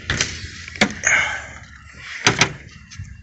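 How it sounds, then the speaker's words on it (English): A door on a school bus being converted into a skoolie is pulled shut, giving a few sharp knocks and a sliding rumble, fairly close and alone. "let me close the door"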